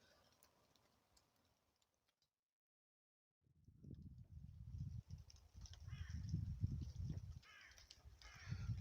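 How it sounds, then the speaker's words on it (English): Crows caw outdoors near a tree, several faint, distant calls, later joined by a low rumbling of wind and handling noise. "Sounds like the crows have seen me."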